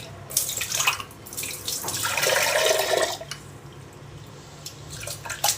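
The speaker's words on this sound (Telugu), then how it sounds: "ఫస్ట్ దీంట్లో వాటర్ వేసి కడగాలి" Water splashes and gurgles as it is poured in to rinse a juicer, a steady rush lasting a few seconds with scattered drips and clatter before and after, no voices.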